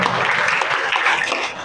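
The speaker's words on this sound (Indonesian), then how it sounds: "tepuk tangan untuk kita semua." An audience at a media-analysis training session applauds together, a sustained, fairly loud patter of many hands with no pause.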